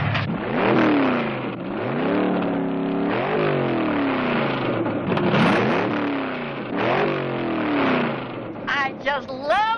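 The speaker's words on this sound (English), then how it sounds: "I just love the sound of a well-tuned engine." A well-tuned 427 engine, ported, revs repeatedly, pitch sweeping up and falling back in loud, close surges, then a few sharper blips near the end.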